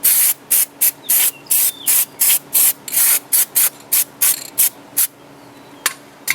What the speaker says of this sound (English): spray some grease around here.